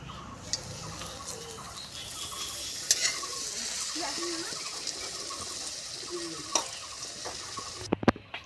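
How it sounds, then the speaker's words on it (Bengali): Fuchka puris frying one by one in hot oil, a steady close sizzle throughout with occasional stirring clinks and a few sharp knocks near the end. "এখন ফুচকাগুলোকে একটা একটা করে এখানে ভেজে নেব"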